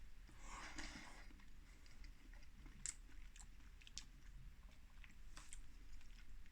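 Close, wet chewing and biting of a mouthful of hot Hall's haggis, with soft crunchy clicks scattered through a quiet room and no talking.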